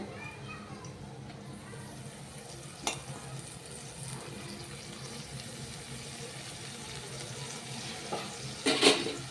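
Fenugreek leaves frying in oil with mutton give a steady low sizzle under a voice, with a short clatter of utensils near the end.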